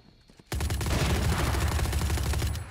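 Sustained automatic gunfire from the shooter game Valorant erupts suddenly after a brief quiet moment, a dense rapid burst of shots that continues steadily and loudly to the end.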